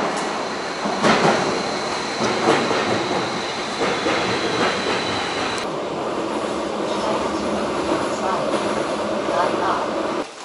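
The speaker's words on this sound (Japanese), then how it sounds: "ここから地下鉄に乗ります" Vienna subway train riding along the track, a steady loud rumbling roar with rhythmic clickety-clack of the wheels and a high whine, heard from inside the carriage, with a shift in tone partway through.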